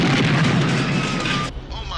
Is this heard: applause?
no